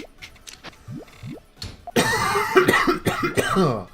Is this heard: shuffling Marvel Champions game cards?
no